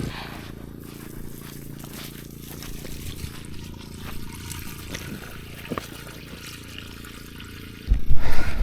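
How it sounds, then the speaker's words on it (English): Water squirting and trickling from a septic test hose outdoors, a thin continuous splashing stream with scattered clicks and thuds, ending in a louder gush. "We got water coming out of the pipe, or the hose rather."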